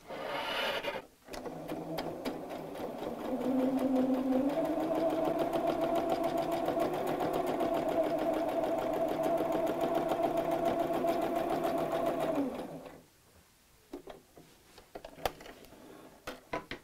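A sewing machine runs a steady, continuous whir for about ten seconds while stitching the seam of a craft mat bag, starting after a short burst and stopping abruptly, followed by quiet handling noises.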